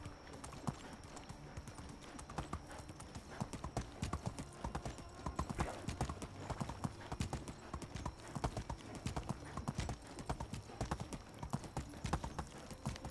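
In the game Medieval Dynasty, a ridden horse's hooves clop in a steady, close, even rhythm that runs throughout without pause.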